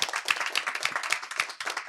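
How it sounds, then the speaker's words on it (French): A French talk-show studio audience applauds its guests, with dense, loud and continuous clapping throughout and no voices on top. "on applaudit très fort pour nos invités."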